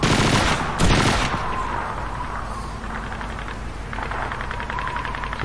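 Call of Duty 2 game gunfire opens with a loud, dense burst of rapid shots, then fades into a quieter stretch of distant crackle and rumble beneath the game's noisy background.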